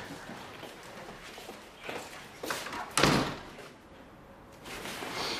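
An indoor door is opened and closed, with a few thumps and a sharp bang, amid faint shuffling and footsteps at moderate distance.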